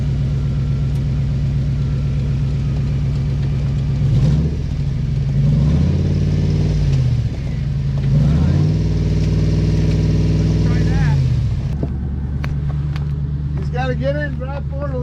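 An off-road rig's engine idles and revs repeatedly as it creeps forward on a rocky ridge, a steady loud rumble rising and falling close by, with voices talking near the end.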